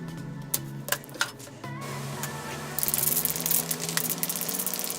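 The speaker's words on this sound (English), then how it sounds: "I spray the primer on, and then turn off the fan and close the front cover" Primer sprays from a can onto the clutch cover of a 1979 Sachs Prima G3 moped engine, a sharp hiss after a few handling clicks, over a constant fan hum.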